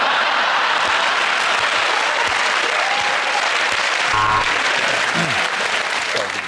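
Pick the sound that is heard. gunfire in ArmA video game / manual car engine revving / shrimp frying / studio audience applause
studio audience applause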